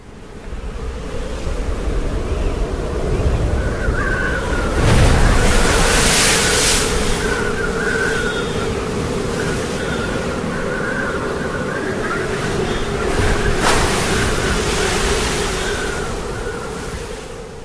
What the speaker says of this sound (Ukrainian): Також шум хвиль.